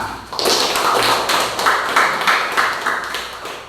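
A small classroom group claps for fellow students after a presentation, a loud, close burst of separate slaps in loose rhythmic pulses, with individual claps standing out rather than blending into a wash.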